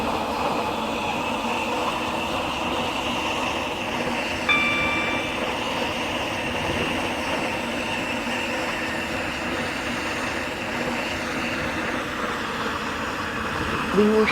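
A train running in the video game Stepford County Railway, a steady continuous rumble with a brief tonal chime partway through, alone at moderate level throughout.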